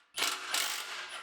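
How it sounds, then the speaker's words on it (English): A ratchet on an extension works manifold nuts loose on a 1993 Mustang GT, a quick run of close metallic clicks lasting about a second. "Get those bolts out of the manifold."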